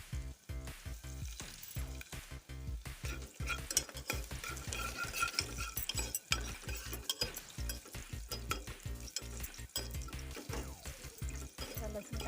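Crushed garlic goes into hot oil with cumin and asafoetida and is stirred, giving a steady close sizzle under rhythmic scraping strokes of a spoon against the pan over the whole stretch.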